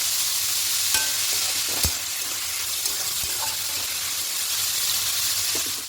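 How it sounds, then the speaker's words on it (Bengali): Carrots and beans stir-frying for vegetarian fried rice, a steady close sizzle and hiss in the pan with a few sharp clinks of a spatula against the pan, no voices. "আগে গাজর বিনসটা দিয়ে দেবো এবার হালকা নাড়াচাড়া করে একটু ভেজে নেব"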